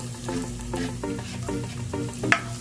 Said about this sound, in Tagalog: Lagay na natin yung ating bawang.